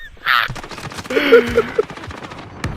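Gunfire in a first-person shooter video game, a short burst of sharp cracks and rattling shots under excited voices.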